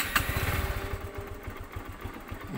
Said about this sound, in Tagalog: So start natin yung motor.